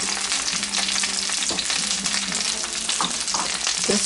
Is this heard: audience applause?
no